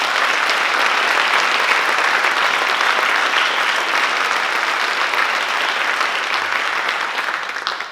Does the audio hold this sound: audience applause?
yes